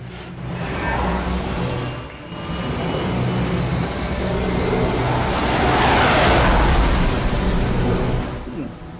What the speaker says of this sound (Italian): Un aereo spia.